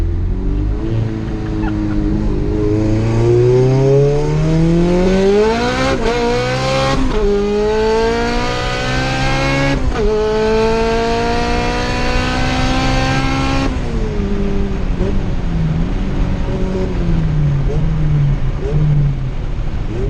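Honda car accelerating hard in second gear, its engine note climbing steadily in pitch as revs build, then dropping briefly and climbing again, loud and close with a strained, rising whine.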